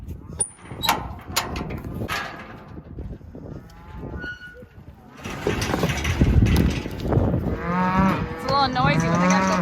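Cattle, including calves seeking their mothers, moo several times over a rumbling background, with a burst of rustling noise midway and more lowing near the end; a voice is briefly audible.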